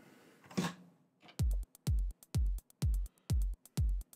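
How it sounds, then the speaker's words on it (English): Basic drum pattern programmed on an Elektron Analog 4 synth, with a deliberately noisy kick: after a brief noisy swell, six punchy kick hits with bright noise tails land in a steady even beat. "You hear a kick with a lot of noise on it, and that's on purpose because it has a lot of information"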